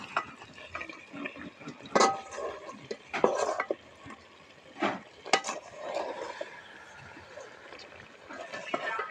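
Quail gravy being stirred in a cooking pot, with scattered scraping and clinking of a spoon against metal over a soft bubbling background, moderately close.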